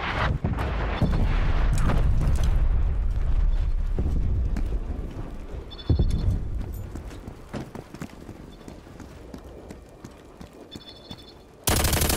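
Incoming enemy artillery in Black Ops Cold War on a Moscow map: heavy rumbling blasts and crackling fire that fade and thin out, with a short burst of faint beeping partway through and a sudden loud hit at the very end.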